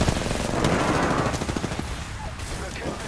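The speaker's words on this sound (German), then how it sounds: "Ich stehe unter Beschuss" Rapid automatic gunfire in Apex Legends, a dense close burst of shots that fades after about two seconds, with a voice speaking over it.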